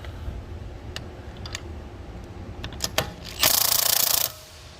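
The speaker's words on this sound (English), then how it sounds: "I'm gonna be using a Milwaukee Impact." A Milwaukee impact wrench loosening a 21 mm lug nut on a Tesla wheel gives a loud, brief hammering burst near the end, preceded by scattered ticks and tool handling in a garage.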